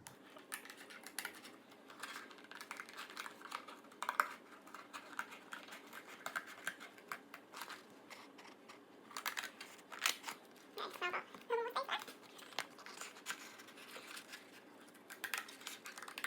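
Scissors snip through a paper craft dress for an outdoor dress-up kids' craft, giving quiet, irregular clicks and crisp cuts close by with a faint background hum and no talk.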